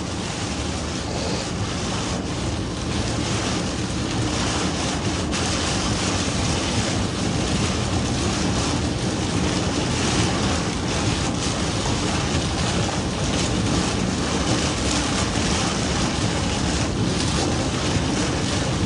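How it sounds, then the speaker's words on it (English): Powerful storm wind roars steadily, buffeting the microphone with a dense, loud rushing noise that holds unbroken throughout, no speech over it. "These winds are insane right now."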